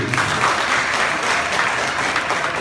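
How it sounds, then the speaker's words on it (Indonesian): Indoor audience applause at a seminar event in Medan, dense steady clapping filling the whole stretch at a loud, even level with no gaps. "beri aplaus untuk Bapak sendiri"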